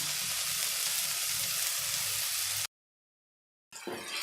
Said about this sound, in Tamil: இது எல்லாத்தையுமே நல்லா மிக்ஸ் பண்ணி நல்லா வதக்கிக்கோங்க.